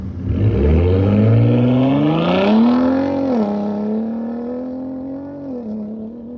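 A Ford Raptor truck accelerates hard, its engine note loud and close, rising steadily in pitch as it climbs through the revs, then dipping briefly at a shift before pulling on, with no talk.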